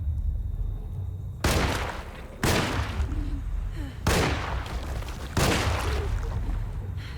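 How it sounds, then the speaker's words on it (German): Four loud, heavy gunshots in the Alone in the Dark video game, each a sharp blast followed by a long booming tail, fired about a second apart over a low rumbling background. "Schade, einen Schuss vergeudet."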